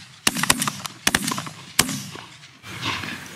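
Shotgun blasts from a duck and goose hunt in a dry-land mallard field, several sharp reports in quick succession then a few more, loud and close, with outdoor ambience between shots.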